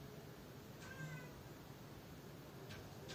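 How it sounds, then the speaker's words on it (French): A pet cat meows from behind a bedroom door, wanting in: one faint, drawn-out meow and then a second brief one, distant and low under a steady background hiss. "Il y a mon chat qui est en train de râler pour"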